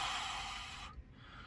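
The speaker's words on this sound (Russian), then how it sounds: "это я просто сейчас запыхался туда-сюда скакать" A US long-haul trucker, out of breath from moving about, gives one long, heavy exhalation up close, then a short sniff, with no talking.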